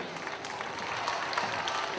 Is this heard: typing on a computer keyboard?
no